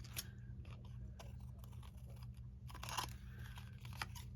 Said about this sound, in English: Let's go ahead and trim.